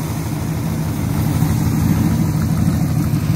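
An original-block Corvette engine idling steadily, a loud continuous low rumble with an even throb and no variation in pace, heard alone without talk.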